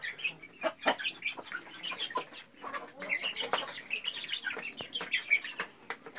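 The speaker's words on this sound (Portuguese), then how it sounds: "Esses aqui são aqueles pintinhos que eu mostrei, que eu fiz o vídeo mostrando aqui da raça de gigante" Chicks of a giant chicken breed cluck and peep steadily while being fed corn and complete ration on a rural farm, a close, busy flock chatter with overlapping calls throughout.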